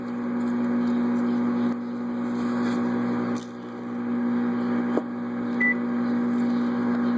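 A microwave oven hums steadily and close while popcorn kernels heat inside, with a couple of faint ticks and a brief high beep-like tone partway through.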